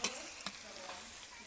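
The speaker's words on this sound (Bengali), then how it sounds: "জাল ফ্রাইয়ের জন্য আদা রসুন আর পেঁয়াজ কষাইতেছি" Ginger, garlic and onion sauté in a pan for a fish dish, a quiet continuous sizzle with a couple of soft stirring scrapes early on, brief and close.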